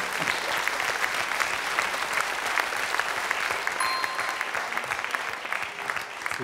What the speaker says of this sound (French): Applaudissements pour Roland quand même.